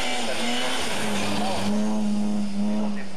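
Rally car engine roaring at sustained high revs as it climbs a hill during a sprint rally stage, loud and continuous with a steady engine drone and some tyre noise throughout.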